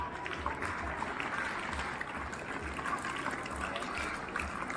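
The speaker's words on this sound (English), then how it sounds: "Let's give them a huge round of applause." An audience at a school academic achievers' awards ceremony claps in a steady, moderately loud wash of applause with no voices over it.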